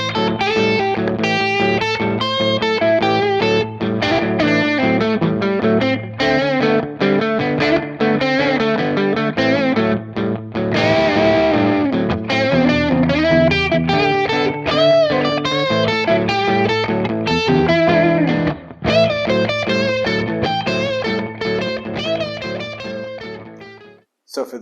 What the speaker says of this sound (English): Let's listen to spring reverb.